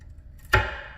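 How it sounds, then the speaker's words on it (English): A single crisp knife chop as a blade cuts through a pecan on a board, short and close, ringing briefly before fading into quiet. "we're gonna just take 1 pecan and we're just gonna cut it into 3 pieces"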